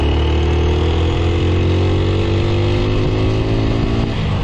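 A TVS Apache RTR 160 4V motorcycle under way, its engine droning loud and close as revs climb steadily through a gear, with constant wind rush and no break in the sound.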